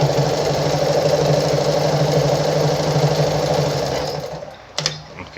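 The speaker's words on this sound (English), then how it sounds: "I just reduced the stitch length to, let's say, to like 4. So when I sew through now" A Pfaff 130-115 sewing machine stitches at a shortened stitch length, running as a loud, steady, fast mechanical chatter up close for about four seconds, then stopping with a couple of light clicks.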